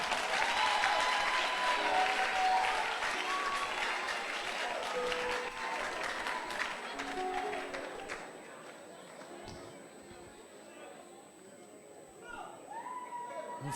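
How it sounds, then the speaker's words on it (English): A church congregation bursts into sustained applause during a sermon, loud and dense for about eight seconds before fading into scattered claps and murmuring crowd noise. "Why are the men not clapping? Only the women."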